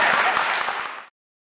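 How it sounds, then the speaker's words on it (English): Dense applause from a panel session audience, a full wash of many hands clapping at once that holds for about a second and then cuts off abruptly into silence. "Let's give him a round of applause."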